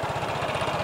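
A Vietnam-assembled Vespa Sprint or Primavera i-get scooter with electric start and no kickstarter runs with a steady, close, buzzing engine note over a brief moment.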